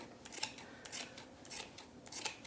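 Scissors snipping through yarn pom pom loops, four or five quiet crisp cuts in a steady rhythm, close and alone without talking.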